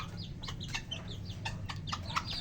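Several chickens cluck and chatter nearby in short, overlapping calls over a low background hum.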